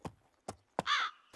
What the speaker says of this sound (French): Va-t'en, sale corbeau!